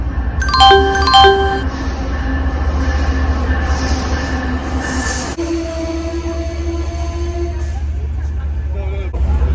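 A New York train rolls along its rails with a loud steady rumble, metallic wheel squeal and shifting tonal whines as it moves, a chime sounding near the start.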